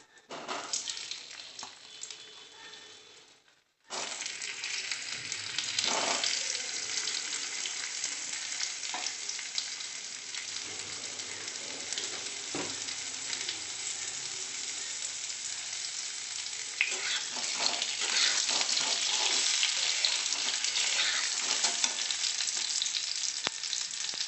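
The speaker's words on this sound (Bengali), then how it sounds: "প্রথমে আলুটাকে একটু ভেজে নিচ্ছি" Halved potatoes frying in hot oil after a cumin tempering for aloo dum, a steady loud sizzle that cuts out briefly then resumes and continues unbroken, with occasional stirring clatter.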